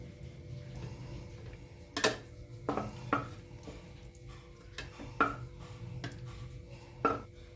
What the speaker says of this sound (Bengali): মিহি করা সব সবজিগুলো একটা প্লেটে তুলে রাখলাম